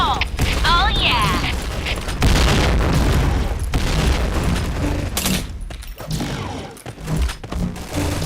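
Grenade blast and bursts of gunfire from the online shooter Point Blank, with heavy booms, mechanical clatter and rapid shots running loud and dense throughout, while voices call out over the battle.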